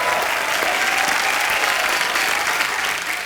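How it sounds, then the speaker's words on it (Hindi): A studio audience at the Kapil Sharma Show, a comedy program, breaks into loud, sustained clapping that holds steady throughout the short clip, with no voices. "जोरदार तालियां"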